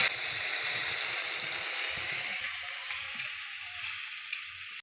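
Bitter gourd, potato and spice paste of cumin and chili frying in a pan, a steady close sizzle with a brief louder burst partway through, no voices.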